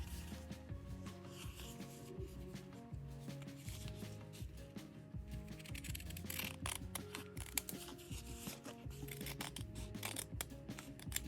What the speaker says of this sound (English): Now I'm cutting up the white edge into thin strips so that it'll become my fringe.